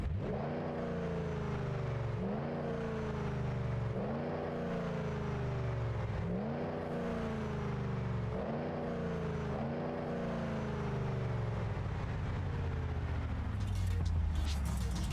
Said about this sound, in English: let me rev this engine for you to give you guys a chance to hear how this thing